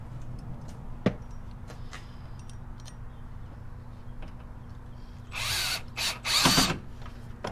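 A power tool drives a machine screw while installing a CB radio in a 2013 Ford F150, heard as two or three short whirring bursts near the end after a quiet stretch with a single click.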